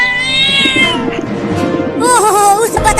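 A cat meows in a comedic domestic skit, several drawn-out, wavering cries close and loud, one after another, with brief overlapping sounds between them and no clear speech.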